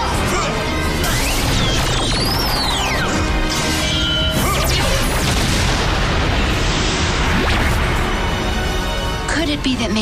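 Loud crashing blasts and booming impacts from a Power Rangers Samurai Five Disc Beetle Cannon final strike, dense and continuous with whooshing sweeps, overlapping shouted voices.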